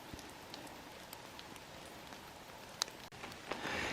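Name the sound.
rain falling in a pine forest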